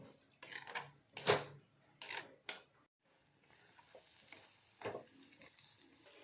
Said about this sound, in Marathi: इथे मी पूर्ण दूध आटून घेणार आहे